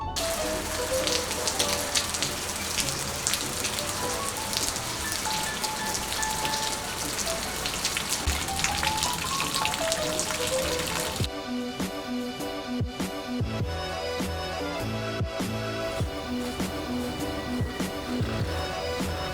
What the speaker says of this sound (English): it's about to rain.